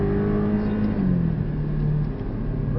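A Porsche 718 at full throttle on the Portimão race circuit, engine note climbing steadily with a gear change midway, heard loud and close from inside the car.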